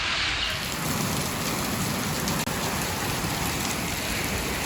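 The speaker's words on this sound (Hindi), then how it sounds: "बारिश शुरू हो चुकी है और बहुत तेज़ बारिश है" Heavy rain pours steadily in Islamabad in a dense, continuous hiss, loud and close, with a brief dip partway through.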